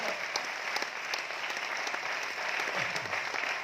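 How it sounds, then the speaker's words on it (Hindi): Audience applause at a business seminar in Aurangabad, a steady wash of many hands clapping at a moderate, somewhat distant level with no pause. "ताली बजाएं"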